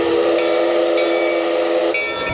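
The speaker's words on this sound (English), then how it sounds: "Train's leaving, guys." A theme park train pulling out at Knott's Berry Farm, a loud continuous steam hiss with bright whistle-like tones that break off and return over a couple of seconds.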